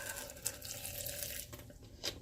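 Water sloshes and trickles in a small plastic cup as a paintbrush is rinsed, a soft close splashing with brief stirs and drips, quiet and without talk.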